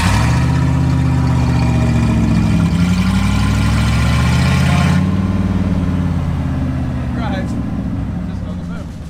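The engine of a stuck truck roars loudly and steadily, its low rumble rising and falling as it revs, then easing off near the end.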